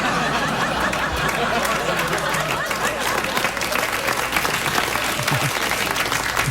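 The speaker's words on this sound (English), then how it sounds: "Audience embarrassed into clapping." Studio audience applause on a late-night talk show, steady dense clapping from a crowd with a few scattered chuckles, filling the room at an even level throughout.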